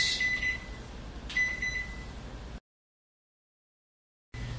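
A home oven's timer being set gives two short high beeps over a low kitchen hum, and the sound then cuts to silence before the hum returns.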